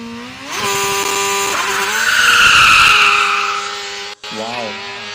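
A Formula Student race car at a competition starting line revs and accelerates loudly, engine note rising and falling through gear changes with tyre squeal, close and powerful, with a brief cut near the end and voices in the background.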